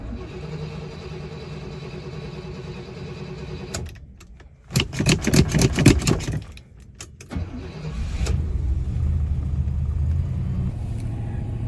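A carbureted Pontiac Grand Prix engine starting after four months of storage: steady idle, a pause, rapid cranking, then the engine catching and settling into a loud, close idle.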